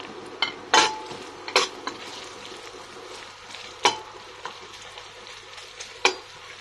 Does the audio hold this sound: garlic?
yes